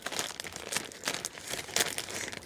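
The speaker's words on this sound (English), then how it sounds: "Just find it easier to just trim the ribbon than rip into the package" Scissors trimming the ribbon on a wrapped package, heard close up as crisp rustling and crinkling with short snips and tearing bursts and no talk.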